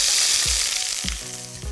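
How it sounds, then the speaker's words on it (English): Food toasts in hot oil with a loud, steady sizzle and crackle, broken briefly by a few low thuds and a short ringing tone near the end. "all we're going to do is just toast them off in a bit of hot oil just for a minute or two, just get them sizzling"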